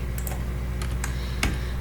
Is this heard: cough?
no